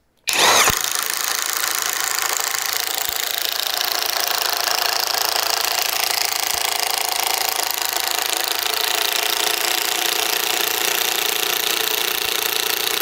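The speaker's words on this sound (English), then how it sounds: "Let's see how it does drilling a hole with one of these." A DeWalt power drill whines steadily and loudly throughout while drilling a hole, a continuous high-pitched motor drone with a faint tick or two, no voices.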